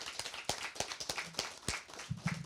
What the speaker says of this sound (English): clap it up for Tariq